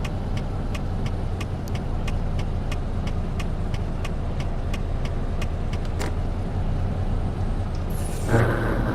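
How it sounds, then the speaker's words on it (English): A loaded truck grinds its gears during a clutch shift near the end, rising over a steady rumble of engine and road noise with faint, evenly spaced ticking; no one speaks. "grinding gears"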